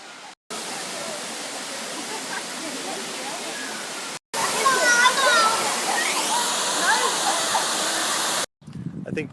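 A waterfall in the rainforest near Piha Beach gives a loud, continuous rushing roar of falling water, broken by brief cuts of silence.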